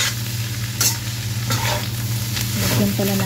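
Labong (bamboo shoot) adobo is stirred in a frying pan, a steady sizzle running underneath while a utensil scrapes and clinks against the pan at close range.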